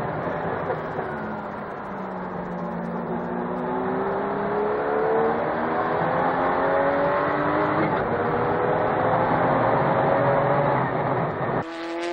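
Ferrari F40 and Porsche 962C race cars at full speed on track, engines holding a sustained high-pitched roar with rising gear tones, continuous and loud, with no talk.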